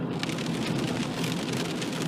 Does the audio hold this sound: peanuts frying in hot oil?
no